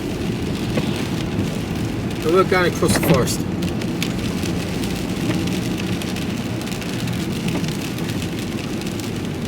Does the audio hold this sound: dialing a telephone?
no